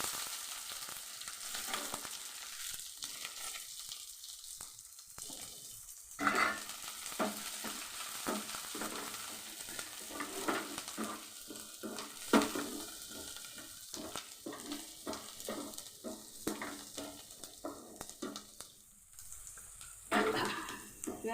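Onions frying in oil in a pan while egg bhurji is being made: a steady sizzle with repeated stirring scrapes and clatters, fairly close and moderately loud, with no voices.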